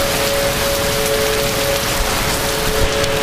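Heavy rain pours during a supercell storm near a rain-wrapped tornado outside a house in St. Louis, Missouri, a loud dense constant hiss with a faint steady tone running through it.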